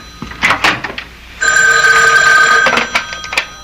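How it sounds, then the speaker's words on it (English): A telephone bell rings in a radio mystery drama, one loud sustained metallic ring of about a second and a half that comes after a few soft knocks and ends before quieter sounds. "Excuse me, that's my phone."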